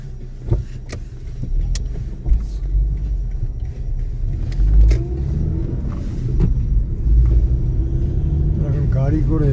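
A car drives up a mountain road from a village toward the city, with a steady low engine and tyre rumble and occasional bumps and clicks inside the cabin, while a voice talks over it.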